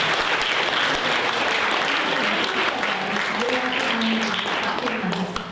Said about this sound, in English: let's give ourselves and the three presenters a big round of applause